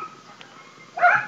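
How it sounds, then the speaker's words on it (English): Small schnauzer dogs next door bark in a short, sharp burst at moderate distance outdoors in a garden, following a stretch of quiet background. "those are the little doggies, my neighbor dogs barking"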